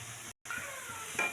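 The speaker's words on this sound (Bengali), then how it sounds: "দেখো এখানে বিনস আর গাজরটা আমি একসঙ্গেই ভেজে নিচ্ছি" Beans and carrots fry together in a pan with a quiet, steady sizzle and faint stirring taps, briefly cut off for a moment before the sizzle resumes.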